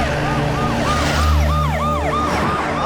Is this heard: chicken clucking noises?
no